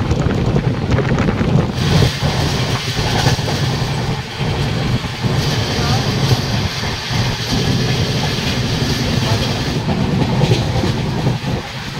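An SMVT Bengaluru Superfast Express train runs at speed on the Howrah–Katpadi route in Andhra Pradesh, with a steady loud rumble, wind rush and rhythmic rail clatter.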